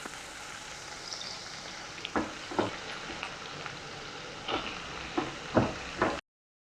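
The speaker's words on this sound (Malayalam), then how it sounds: "നമ്മൾ ഈ തക്കാളി ഒന്ന് വേവണ വരയ്ക്ക് ഒന്ന് വഴറ്റിയെടുക്കാം" Tomatoes sautéing in a pan with chillies and curry leaves for a semi-gravy masala, a steady low sizzle broken by several sharp scrapes and knocks of a spoon stirring against the pan.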